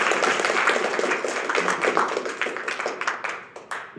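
Audience clapping at a cross-country team banquet, a moderate burst of hand claps that thins out over four seconds into a few scattered, separate claps at the end.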